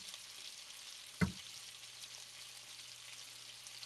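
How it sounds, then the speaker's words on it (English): Onions fry in oil on a stovetop with a soft, steady sizzle, briefly broken by a single sharp knock or clatter near the start. "Get all these onions coated in a decent layer of oil."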